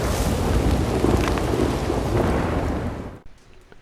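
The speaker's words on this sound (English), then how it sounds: "Wow, this is a pretty big storm moving in." Heavy thunderstorm with steady rain in the Red Dead Redemption 2 video game, a dense roaring wash of rumbling thunder and downpour that holds loud for about three seconds, then drops off abruptly to a faint tail.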